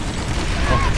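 Dense gunfire and explosions in the online shooter PlanetSide 2, a continuous loud roar of overlapping shots for about a second, with a voice faintly underneath.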